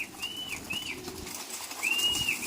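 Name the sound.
pigeons in a pigeon loft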